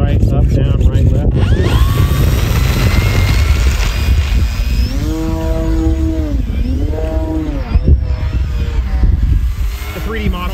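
Wooden 13x5 Zor propeller on a 3D RC plane, loud and close, a continuous engine drone with rising and falling pitch sweeps as the model hovers and maneuvers, wind buffeting throughout.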